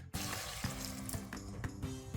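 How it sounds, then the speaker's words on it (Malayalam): Hot water, about three-quarters of a cup, poured into a simmering Kerala-style egg curry in a pan, a steady close-up liquid splash with faint repeated clinks, no voices. "ഇനി ഇതിലേക്ക് 3/4 കപ്പ് ചൂടുവെള്ളം ചേർക്കാം."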